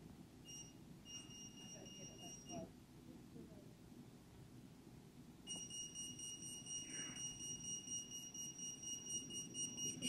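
At a Black History knowledge bowl quiz, a buzzer is tested with a steady high electronic tone that sounds briefly, cuts out, then returns for a longer stretch over a quiet room murmur.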